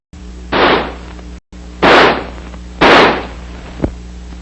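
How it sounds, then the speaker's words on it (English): Three loud, sharp semi-automatic shots from a 1966 M16 rifle ring out about a second apart, each a close crack with a short decaying tail over a low steady hum, followed by a small metallic click. "By closing the bolt and turning the selector lever to semi, the rifle will fire semi-automatically."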